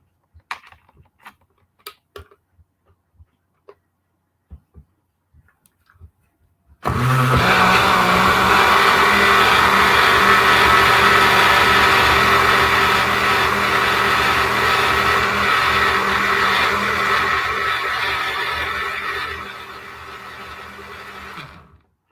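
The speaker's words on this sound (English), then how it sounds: "I put it in my heavy duty blender" A few faint clicks and taps, then a heavy-duty blender blending cream starts and runs at a loud, steady whir for about twelve seconds before winding down.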